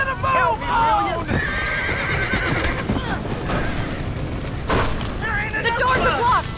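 Horses in Red Dead Redemption whinny loudly and shrilly in two bursts at the start and end, with a sharp crack midway and rumbling hoofbeats and commotion underneath, with voices shouting over it.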